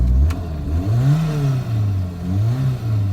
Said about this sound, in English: So let's get her started up.